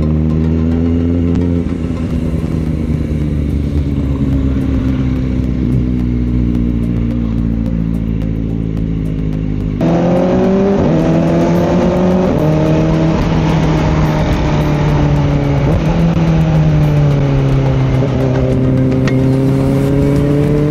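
Riding a Kawasaki Ninja ZX-4RR through traffic on Molino Boulevard in Bacoor, Cavite, the engine hums and revs up and down in close, loud, continuous tones with the sound of the road around it.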